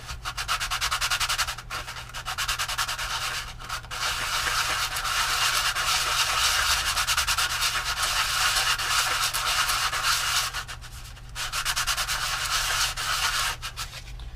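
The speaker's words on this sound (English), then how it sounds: "Once you don't have any overhang, you can start to Do a little swirl sanding." Continuous swirl sanding on balsa parts of a Dumas Red Lion model airplane, a close, steady scratchy rub with brief pauses between passes, over a faint low hum.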